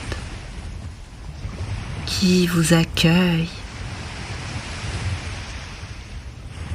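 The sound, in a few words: ocean waves on a meditation recording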